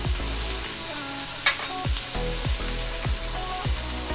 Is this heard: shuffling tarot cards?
no